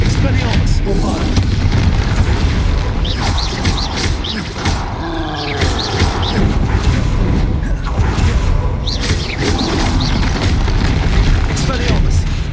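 Spell explosions from the Bombarda charm boom through a Hogwarts Legacy battle, a dense, loud barrage of deep blasts and crashes that rolls on almost without pause.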